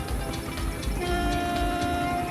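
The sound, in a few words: train passing over a highway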